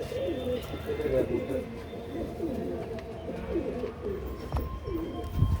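Low, soft pigeon coos repeat steadily through the clip alongside a person talking, with a faint thump near the end.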